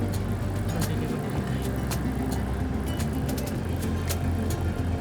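Road traffic on Tagaytay Nasugbu Road, a steady dense rumble of cars and other vehicles with passing engine noise and occasional brief higher sounds, continuous and fairly close throughout.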